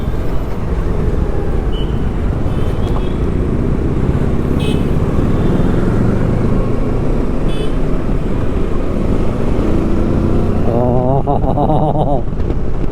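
A 2020 Kawasaki Versys 650 motorcycle rides along with a steady, loud engine drone and strong wind rush throughout. A rider speaks briefly near the end.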